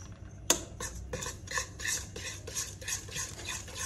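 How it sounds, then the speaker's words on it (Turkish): A spoon stirs cookie dough ingredients with powdered sugar in a bowl, a sharp clink at the start followed by rhythmic scraping and rubbing strokes against the bowl, close and clear. "Onları biraz karıştıracağım."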